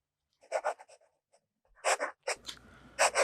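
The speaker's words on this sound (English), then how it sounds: "The next writing sample is done in a FieldNotes Steno notebook." Fountain pen with a Noodler's Ahab 1.1 stub nib scratching across paper in a FieldNotes Steno notebook, short bursts of strokes separated by pauses, close and fairly quiet.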